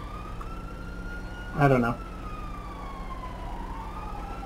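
Police sirens in a video game heist, a faint wailing siren sweeping up and down in the background throughout, with a brief spoken voice over it.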